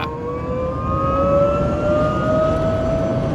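A Microlino electric microcar pulling away from a traffic light gives a rising electric motor whine that climbs steadily in pitch over a steady bed of road and wind noise, heard from inside the cabin.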